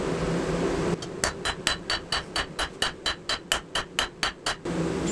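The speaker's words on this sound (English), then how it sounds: "Now we're gonna take the rounding side of a rounding hammer, we're gonna start pulling everything out." Steady hammer blows from the rounding side of a rounding hammer forging a steel cleaver, about fourteen sharp metallic strikes in an even rhythm, close and loud over shop noise.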